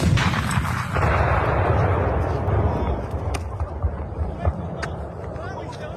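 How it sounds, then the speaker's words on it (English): A large explosion plays back from a clip as a loud sustained rumble that slowly fades, with scattered sharp cracks and people talking underneath. "Of course, I found the full explosion."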